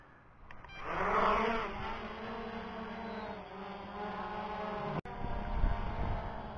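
MJX Bugs 2C GPS drone spinning up its rotors for a one-key takeoff, a steady buzzing whine with harmonic tones that swells in the first second, holds close and loud, then cuts briefly near the end.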